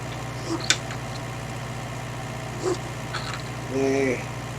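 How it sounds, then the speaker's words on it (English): Ford 5000 tractor engine running steadily at low idle in a hay field, a continuous low hum through the clip with a few faint clanks and brief rises over it. "This tractor will do the mowing and baling."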